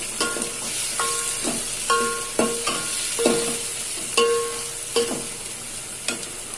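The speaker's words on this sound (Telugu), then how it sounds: "తర్వాత టమాటా ముక్కల్ని వేద్దాం." Tomato pieces frying in a hot pan for sweet corn soup, with a spoon stirring in repeated scraping strokes over a steady background sizzle, close and fairly loud, no voices.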